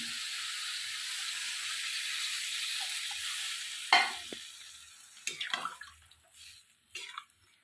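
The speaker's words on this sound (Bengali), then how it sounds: "একটু জল দিলাম" A splash of water hits a hot pan of cauliflower korma, cutting a steady sizzle into a sharp hiss, followed by a few scattered clinks and stirring scrapes.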